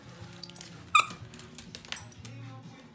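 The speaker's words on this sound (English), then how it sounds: "You really like your squeaky toys, huh?" A dog's squeaky toy gives one sharp, brief squeak amid soft indoor rustling and low background noise.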